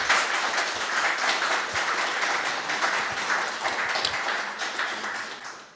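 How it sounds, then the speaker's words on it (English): Conference audience applauding at a closing session, a steady wash of many hands clapping that holds throughout and tapers slightly at the end. "this is the send-up applause to Erik Jan, Katrin, Florian, Tom, Sahar"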